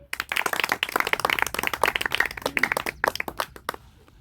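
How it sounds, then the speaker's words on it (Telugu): A room of children at a puppet show claps together, a dense, close burst of quick hand claps that carries steadily for about four seconds before thinning out and stopping. "ఒకసారి చప్పట్లు కొడతారా మరి?"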